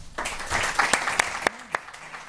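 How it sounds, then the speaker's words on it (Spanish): Brief applause from the audience at a work psychology breakfast meeting, a handful of distinct claps over a moderate wash, with a faint voice underneath. "para todos vosotros y para ellos un fuerte aplauso y hasta pronto"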